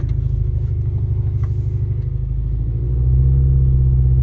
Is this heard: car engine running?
yes